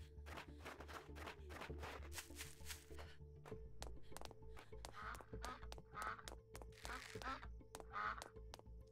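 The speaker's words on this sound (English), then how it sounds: "Can hear you, duck." A duck in the video game Night of the Dead quacks in short bursts among rhythmic clicking game sounds and a low droning hum, fairly quiet and repeated several times.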